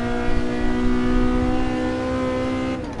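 A race car in a racing video game accelerates out of a corner, its loud engine holding a steady high drone throughout, close and alone with no talking, and it fades slightly at the end.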